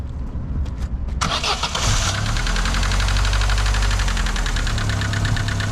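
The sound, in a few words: Vauxhall Vectra 1.6i engine started and running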